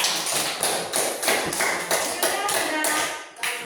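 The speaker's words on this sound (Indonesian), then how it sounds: "Kita kasih aplaus dulu untuk kelompok 3" Classroom applause for a student group: dense, steady clapping from many hands filling the room, with a few louder bursts and faint voices mixed in underneath.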